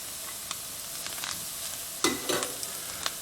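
Garlic drops into a hot pan and sizzles with a sudden burst, then settles into a steady fry with a few scraping stirs, close and fairly quiet, with no talking.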